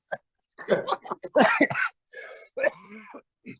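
Several rough coughs and throat-clearing bursts in close succession, loud and near, with short pauses between them.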